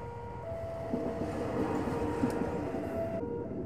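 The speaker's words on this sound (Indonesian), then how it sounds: "kalau ngobrol pas kena kereta api gini" A train rumbles past at close range, a steady broad roar with a high whine and rattling running through it for several seconds.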